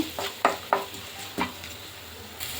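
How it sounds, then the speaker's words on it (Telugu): Green chillies and carrots fry in oil in a pan over high flame, a steady sizzle with a few sharp stirring scrapes and clinks of a utensil against the pan, close up. "ఫస్ట్ పచ్చిమిర్చి క్యారెట్ వేపేసుకుందాము"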